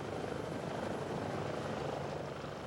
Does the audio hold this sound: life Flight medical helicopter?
yes